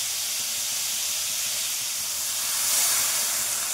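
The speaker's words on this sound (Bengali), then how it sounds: "এবার আমি পরিমাণ মতো জল দেবো।" Water poured into a hot pan of Bengali lemon curry with radish and pumpkin sets off a loud, steady sizzling hiss that continues throughout, swelling slightly near the end.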